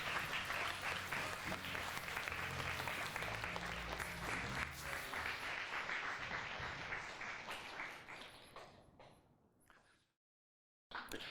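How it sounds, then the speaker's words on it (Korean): An audience claps to welcome a speaker at a lecture event on regional jobs and the game business, loud sustained applause that thins and fades out toward the end before a short pause. "큰 박수 부탁드립니다."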